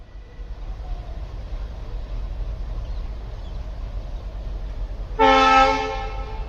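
A train horn blares loud and sustained as a train passes during winter duty. It follows a low rumbling rail background and comes in suddenly near the end with a strong tonal blast.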